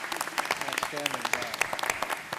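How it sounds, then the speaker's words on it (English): A round of applause for Tammy at a school choice roundtable event: moderate, crisp clapping from a small room audience, with someone speaking over it. "my first request would be to give Tammy a round of applause"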